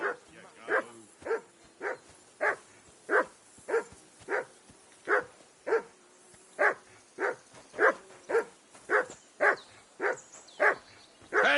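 Mutt the dog barks steadily in Kingdom Come: Deliverance 2, about twenty sharp, evenly spaced woofs in a rhythmic run, close and clear over a quiet background.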